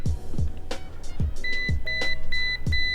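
Steady high electronic beeps from a multimeter continuity test sound in short repeated bursts, nearly continuous, over low clicks and handling thumps of probes touching.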